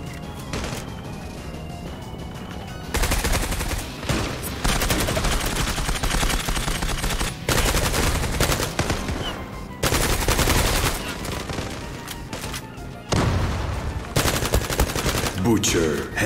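Rapid automatic gunfire and bursts of shots in the online shooter game Zula Europe, loud and dense in repeated volleys with brief gaps, with faint game announcer voices.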